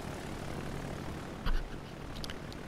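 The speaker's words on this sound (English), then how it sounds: "So let's use the torpedo bombers to take off and start off with." Torpedo bomber aircraft taking off from a carrier in World of Warships Legends, a steady low engine drone throughout with a brief thump midway and faint high clicks later.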